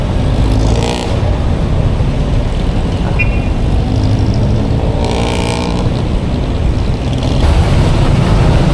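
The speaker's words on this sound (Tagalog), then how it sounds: "So traffic na naman dito." Dense road traffic in a Philippine jam, car and truck engines idling and rumbling together with an air brake hiss, a continuous loud wash of vehicle noise close around.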